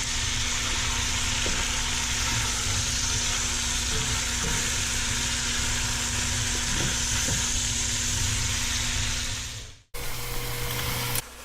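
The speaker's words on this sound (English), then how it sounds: "the lamb is well browned, and we're now going to add the onions to it" Browned lamb and onions frying together in a pan for cassoulet: a loud, even, continuous sizzle close up, with a few faint stirring knocks, cutting briefly to a quieter sizzle near the end.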